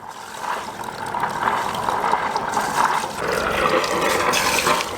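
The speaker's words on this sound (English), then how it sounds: "we've got water coming through" Water gurgling and rushing steadily through a sailboat's engine cooling system once an airlock clears, a continuous close splashing flow with faint mechanical ticking beneath, no voices.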